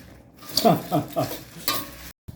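Dry chilies roasting in a pan for laab, with several bursts of stirring and rattling scrapes and a light crackle, fairly close, ending in a brief silence.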